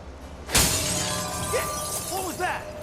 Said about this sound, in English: It was breaking glass.